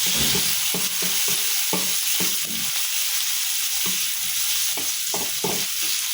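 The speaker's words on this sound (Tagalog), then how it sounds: "Kamatis guys, lagay na natin." Tomatoes sizzle in a hot pot for sinigang, a steady frying hiss broken by repeated scraping stirs of a utensil against the pot.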